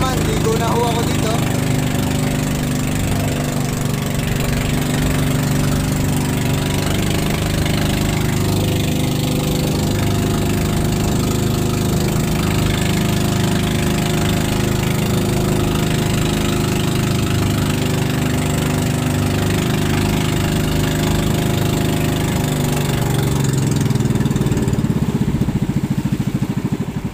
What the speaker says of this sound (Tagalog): Talagang sagad ang throttle niya mga man, sagad.